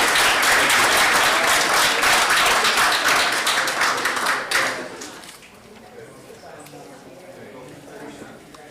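Applause at a school board meeting honoring two Gold Apple award recipients, a dense round of clapping from the audience that carries for several seconds, then tapers off and fades to a quieter room.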